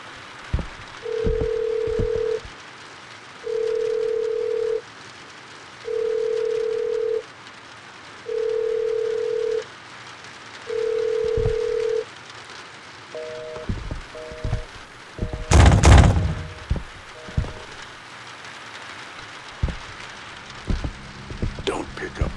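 A telephone rings inside a video game: five steady, evenly spaced electronic ring bursts, then a few short chiming tones and a sharp burst of noise, with no one talking.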